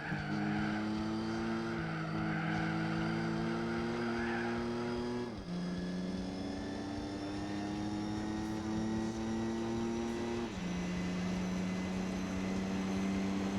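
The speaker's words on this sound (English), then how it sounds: "And this is the racing exhaust as well." A race car with a racing exhaust in Gran Turismo 4 revs steadily, its engine droning loud and buzzy through several gear changes with a dip in pitch at each shift.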